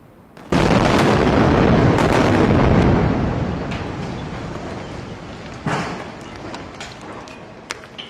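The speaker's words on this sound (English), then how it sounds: "Israeli cities, including Tel Aviv and Jerusalem, have come under rocket fire from Gaza, while Israeli airstrikes have targeted militant positions and infrastructures" A loud, close blast of explosive rumble from rocket fire or an airstrike in Gaza, starting sharply and then fading slowly, with a second thump partway through the decay.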